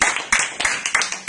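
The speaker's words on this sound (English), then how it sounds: "I think we should show our appreciation with a big round of applause for Luke coming down." Brief, close applause from a small audience, with uneven bursts of clapping repeating over about a second.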